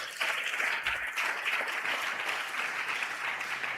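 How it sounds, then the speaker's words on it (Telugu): A church congregation bursts into a dense, steady round of hand clapping that lasts a few seconds, loud and sustained from start to finish with no talk over it. "కొట్ట చప్పట్లు ఒకసారి."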